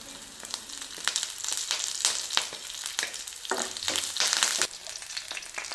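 Onions, chillies and curry leaves fry in a hot pan in oil: a steady, crackling sizzle with scattered sharp pops and stirring scrapes, close and continuous, with no voices.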